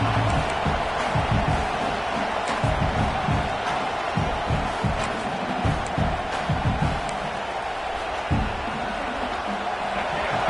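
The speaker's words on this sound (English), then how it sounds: "This crowd bringing the energy and noise early." Dense, continuous roar of a stadium crowd in the College Football 26 video game during a Utah at Oklahoma matchup, steady and loud throughout with no breaks.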